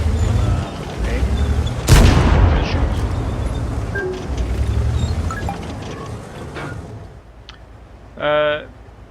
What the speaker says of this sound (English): Wait for the gun to reload before firing again.